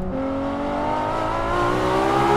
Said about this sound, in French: Allez, on est parti pour ces premiers tours de roue dans cette La Ferrari.